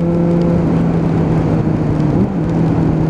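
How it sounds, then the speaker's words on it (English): Suzuki Bandit 600 motorcycle engine with a carburettor issue, running in wet conditions, gives a steady loud drone with a brief dip and recovery partway through, no sharp rev spike standing out. "One very, very wet rev bomb."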